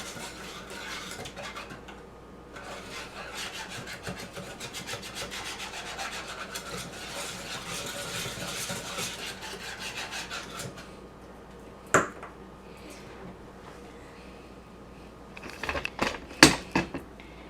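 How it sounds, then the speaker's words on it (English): Hand whisk scraping and rattling rapidly in a bowl of apple cider and cornstarch syrup, a dense continuous scratchy rhythm for about ten seconds, then a few sharp clinks and taps near the end. "I want all my little clumps of cornstarch gone, so make sure you really are whisking it very well."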